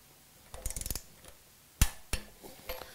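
Torque wrench tightening the cylinder head bolts on an AeroVee aircraft engine, a quick burst of ratcheting clicks followed by two sharp metallic clacks and a faint click, close and alone.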